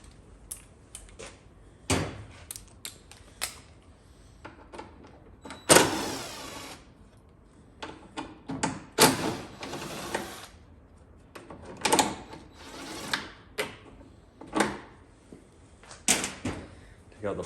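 Torx T30 bolts are removed from a Polaris RZR 1000XP four-seat UTV door, with repeated short bursts of a power driver whirring, separated by pauses and small clicks and knocks.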